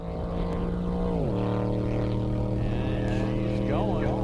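A Datsun 240Z land speed race car in the C Fuel Modified Sports class launches on a dry lake bed at El Mirage. The engine is a loud, sustained roar whose pitch drops as it shifts, and faint voices sound under it.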